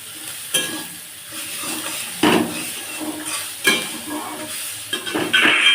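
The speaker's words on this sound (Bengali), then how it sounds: "এরপর পরিমাণ মতো লবণ, হলুদ, লঙ্কার গুঁড়ো দিয়ে নেড়ে চেড়ে নেব।" Spices with salt, turmeric and chili powder stirred as they fry in a pan, a soft continuous sizzle broken by several loud scraping stirs, heard alone up close.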